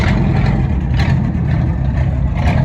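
A vehicle nudges a car from the collection with its bumper, producing a loud, steady, low engine rumble with a few faint knocks and no talking.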